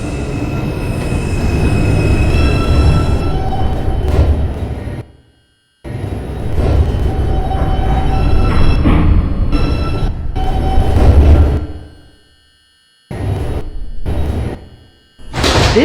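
A New York City 2 subway train at Church Avenue station rumbles and squeals on its wheels, with loud bursts broken by two short silences as doors slide and the car moves, close and steady.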